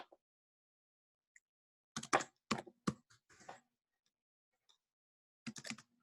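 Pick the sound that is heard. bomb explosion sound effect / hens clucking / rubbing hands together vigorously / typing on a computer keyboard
typing on a computer keyboard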